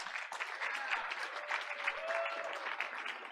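Audience applause at a school board of education meeting honoring elementary school honorees, a steady, fairly distant wash of clapping that continues without pause and with no talk over it.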